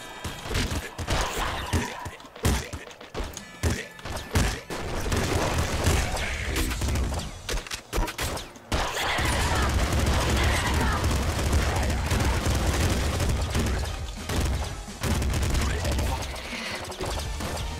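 Sustained video game gunfire from an SMG and an assault rifle in Nuclear Throne, Rebel Gun Allies mod, with dense rapid bursts and booms running loud for long stretches, choppier at the start.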